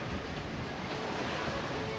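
Ocean swell of about 2.2 meters washes around a sailing boat on passage to New Zealand, a steady broad rushing hiss of water and wind with no distinct breaks.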